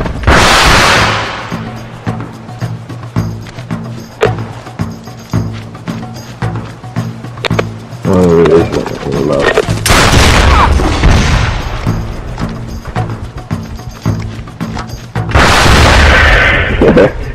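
Gunfire in the SOCOM U.S. Navy SEALs Confrontation video game, a loud dense stretch of booming shots, bursts and explosions with rumbling background, close and continuous, with faint talk underneath.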